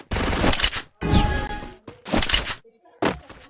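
Video game gunfire from a shooter match: four loud, close bursts of rapid shots separated by brief silences.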